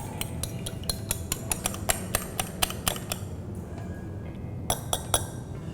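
A fork beats eggs in a bowl, giving quick, fairly regular clinking strikes against the bowl over a soft swishing background, with a short pause and then a few more clinks, close up and with no talk.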